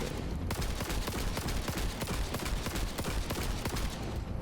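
A rapid-firing spinning gun in Cyberpunk 2077 lets off a continuous burst of shots, close and loud, at roughly nine per second, with no talk over it.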